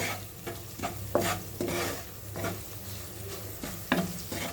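Cumin powder fried in oil for a mango-onion curry, stirred with repeated scraping strokes over a low, steady sizzle close up.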